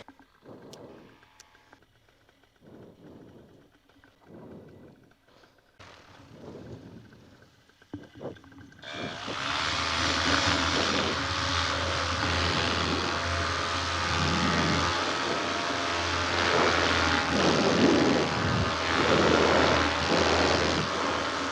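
A paramotor engine drones loud and steady in flight, a continuous propeller buzz that fills the last half after a quieter stretch of scattered handling knocks and wind.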